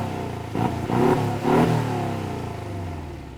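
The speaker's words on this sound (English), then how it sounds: "Now you've got a horizontally opposed 4-cylinder engine." A horizontally opposed four-cylinder engine in a Porsche Cayman revs in two quick bursts, rising and falling close by, then settles back toward a steady idle.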